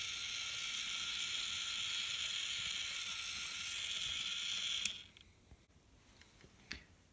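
A Snap Circuits motor turns a toy merry-go-round through a set of plastic gears, making a steady high whirring hum that stops abruptly, followed by a few faint clicks in near quiet.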